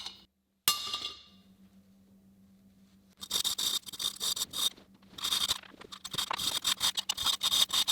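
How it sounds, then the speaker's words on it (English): A hand file squares a hole in a metal part for a carriage bolt on a height-adjustable computer arm. After a short clink and a quiet stretch, close, rasping strokes repeat steadily and briskly. "so I need to file it square"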